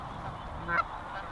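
A goose call made from PVC pipe, or a goose, gives a single short honk in the middle of quiet outdoor background noise during a hunt.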